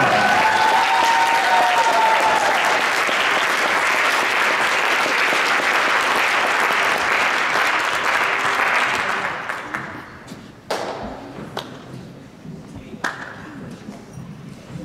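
An audience at a science fair awards ceremony breaks into sustained loud applause for first-place finishers, which fades out after about ten seconds, leaving a few scattered claps and room noise.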